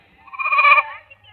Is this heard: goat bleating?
yes